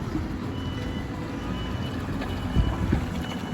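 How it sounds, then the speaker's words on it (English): A farm loader scoops up fodder beet over concrete, its engine giving a steady, heavy rumble with a couple of louder clunks toward the end. "the loader scoops up the fodder beet"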